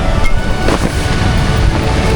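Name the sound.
strong wind at a beach campsite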